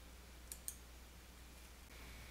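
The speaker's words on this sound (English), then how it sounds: "save your changes by clicking the Save button in the Quick Access toolbar" Two sharp mouse clicks on the Save button in the Quick Access toolbar of Microsoft Access, close together and faint against a quiet room hiss.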